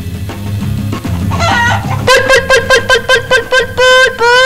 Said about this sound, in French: Poule.